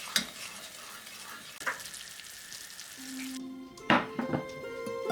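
Honey mixture being stirred in a pot for German nut corners, a soft hiss of cooking with scraping spoon strokes, then a few clinks and a sharp knock of utensil on metal.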